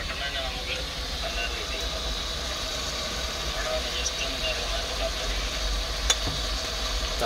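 Masala with ginger paste is stirred in a pan inside a lorry cab, a soft steady sizzle with faint scraping over a low engine-like rumble, close and moderate in level.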